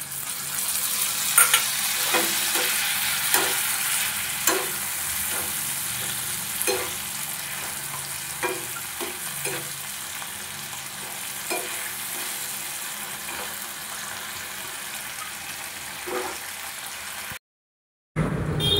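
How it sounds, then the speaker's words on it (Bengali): Onion, capsicum and ginger garlic paste sizzle steadily in a pan while a utensil scrapes and taps through them at irregular intervals, close by and moderately quiet, with a short gap near the end. "পেঁয়াজ আর ক্যাপসিকামটা আমার একটু একটু ভাজা ভাজা হয়ে গেছে।"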